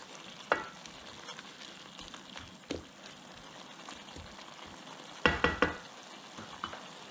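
Cabbage and pork bubble at a full boil in a pot, a low steady simmering hiss broken by a few sharp clanks and scrapes of a spoon stirring, with no talking.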